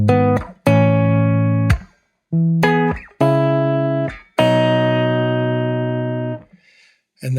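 A guitar reamped through a Fender Deluxe Reverb cabinet, miked with a C414 at the cap and an SM57 on the cone, rings out five clean, sustained chords, each cut short except the last, which decays slowly.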